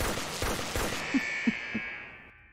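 Sniper gunshots in the Henry Stickmin video game crack out as three short, evenly spaced reports over a dense layer of game noise that fades away at the end.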